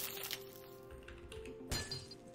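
A frozen water ball shatters in a Roblox magic game, a quiet glassy break with tinkling crackle and one sharper crack late on, heard alone.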